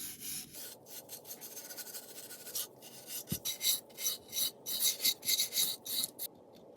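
A rasp scrapes grime off a wooden rifle stock, a Hunters Lodge FR8, in a run of close, steady back-and-forth strokes that grow louder and more regular toward the end.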